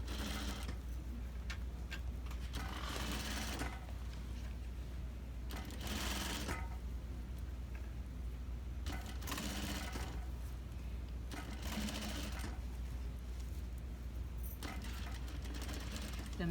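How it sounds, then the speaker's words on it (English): Sewing machine running in repeated bursts while understitching around a jacket collar, close and steady, each run a few seconds long with short pauses between, a low hum underneath. "Now I'm understitching around the collar."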